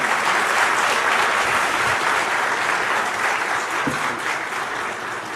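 An audience applauds steadily at a live interview event, a dense, fairly even wash of clapping that holds for several seconds with no talk over it.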